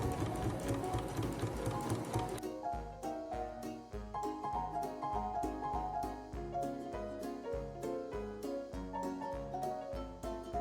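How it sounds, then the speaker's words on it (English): A sewing machine stitches pieces of an Edwardian afternoon dress together, a quiet, rapid, even mechanical clatter that runs throughout, starting slightly busier before settling into a steady rhythm. "Then I started the sewing process. I sewed all pieces together."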